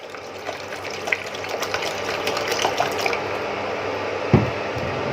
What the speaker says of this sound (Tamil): பேனை அடுப்பில் வச்சுட்டு சாஸ் பேனை நான் ஒரு 200 ml தண்ணி ஊற்றி நல்லா இதை கொதிக்க விட்டுறலாம்